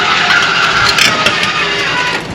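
Electric stabilizer jack motors on a 2022 Heartland Pioneer BH250 travel trailer strain under load, giving a steady, loud, continuous whine and grind with no talk over it.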